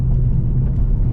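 A Golf GTI rolls over the bumpy carousel banking of the Nürburgring Nordschleife on a wet day, a loud steady in-car rumble of road and engine with no voices.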